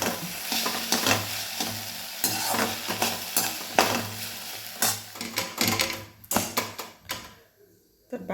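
Okra frying and being stirred in a pan with cumin, mustard seeds and green chili, sizzling steadily with repeated scraping stir strokes, close and fairly loud, easing into quieter sizzle at the end.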